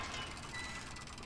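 Clicking, ratcheting gear mechanism as floodgates open in the LEGO Harry Potter video game, a steady mechanical churn lasting about a second with no talk over it.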